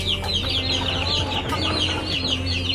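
Shamo breeder hens cluck repeatedly in a farm cage, a steady chorus of nearby clucking with no talk over it.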